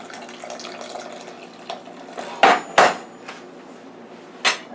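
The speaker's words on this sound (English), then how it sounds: "now I'm going to pour some of the hot broth into my pan here" Hot broth from a beef pot roast is poured into a pan, making a close, splashing trickle broken by a few sharp knocks of metal.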